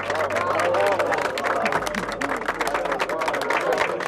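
A crowd at a campaign speech gives scattered, half-hearted clapping that runs steadily throughout under a murmur of voices.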